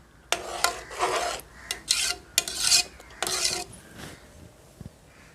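Rava pongal with moong dal being stirred in a pan, a ladle scraping and rubbing against the bottom in a series of short, close strokes with brief pauses, no talking.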